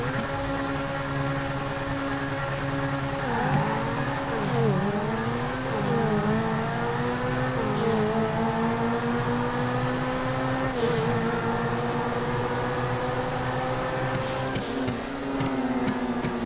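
Grotti Turismo supercar with a 6.3-liter V12 racing in GTA 5, its engine droning steadily and loudly throughout with rising and falling pitch as it shifts through gears.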